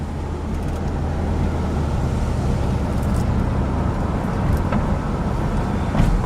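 A restored 1965 Pontiac Bonneville drives along, its engine and road noise forming a loud, continuous low rumble that holds steady throughout.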